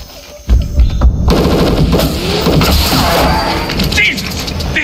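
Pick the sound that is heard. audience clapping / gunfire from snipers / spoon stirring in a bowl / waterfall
gunfire from snipers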